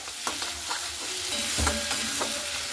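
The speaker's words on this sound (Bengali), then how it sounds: "এরপরে খুব ভালো মতো করে নাড়াচাড়া করে নিতে হবে।" Malabar spinach stirred as it fries in a little fish oil, a spatula scraping and knocking in the pan over a continuous sizzle, close and fairly loud.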